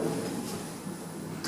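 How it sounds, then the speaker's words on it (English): Lift doors opening at an Eastfields car park level, a quiet sliding whir under a low hum, ending in a soft knock as the doors settle. "Doors open."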